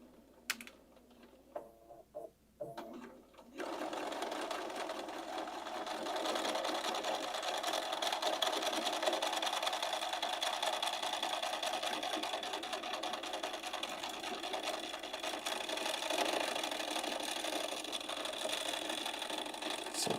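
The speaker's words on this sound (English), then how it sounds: "we're going to edge stitch 1/8 of an inch right along the edge of that seam" A sewing machine edge stitches 1/8 inch along a garment seam, running steadily and close after a few seconds of quiet handling.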